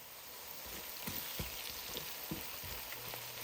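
Onions sautéing in a pan for ginisang sitaw, a Filipino string-bean stir-fry, give a steady close hiss with scattered pops and the occasional clink of a stirring utensil throughout.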